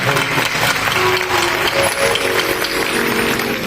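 A large audience at a Ram Katha discourse claps continuously in a dense, even roar, filling the whole stretch without pause.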